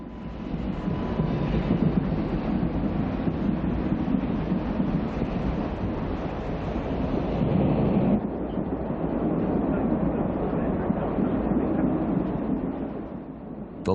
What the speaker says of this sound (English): as the WP continues to roll the westbound California Zephyr through the Rockies